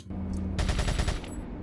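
Rapid burst of gunfire in the video game Resident Evil 4, about eight quick shots in a tight rhythmic string, loud and close, preceded by a low rumble.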